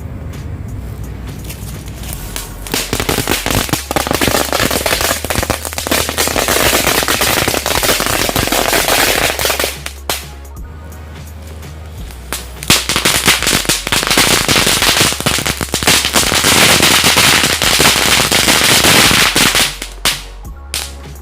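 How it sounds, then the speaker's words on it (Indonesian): Long string of kelabang firecrackers bursting outdoors in a dense, continuous crackling barrage for about twenty seconds, loud and close, with a brief lull near the middle before the rapid popping surges again and cuts off near the end. "Sekarang kita cobain dulu mercon kelabang."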